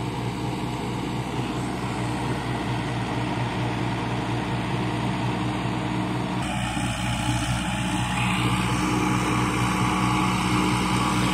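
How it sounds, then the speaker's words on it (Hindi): Sonalika DI 60 RX tractor engine running steadily while pulling an 8 ft rotavator in a field, a continuous loud, close drone with a shift in tone partway through. "दोस्तों सोनालिका के ट्रैक्टर बहुत ताकतवर है"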